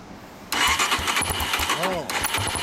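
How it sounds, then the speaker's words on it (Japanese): A 2003 Honda XR250 Motard motorcycle with a stock muffler starts up and settles into a revving idle, a loud close engine sound with one brief rise in pitch, and people talking over it. "エンジン音聞かせてもらえるかな"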